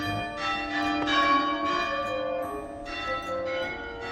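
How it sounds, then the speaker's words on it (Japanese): Church bells ring in Bayeux, France, with several overlapping, sustained metallic strikes carrying steadily over quiet outdoor ambience, fairly near and full, with no talk. "鳴りました、鐘が。"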